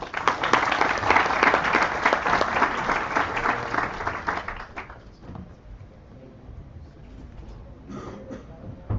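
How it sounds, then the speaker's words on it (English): An audience at a hackathon welcome event in Puerto Rico breaks into loud, dense applause that holds for several seconds, then fades quickly into a quiet room with a few scattered claps and shuffles. "Round of applause, please."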